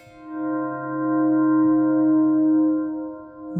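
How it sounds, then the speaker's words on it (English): Sustained, shimmering guitar tone stretched out by a reverb or delay pedal for ambient music, a steady harmonic wash that holds for several seconds before fading slightly. "That could be reverb by just extending the actual sustain."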